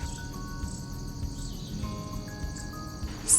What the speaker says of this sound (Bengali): চারপাশে পাখির কলকাকলি ও ঝিঝি পোকার ডাক মিলিয়ে এক অনবদ্য পরিবেশ।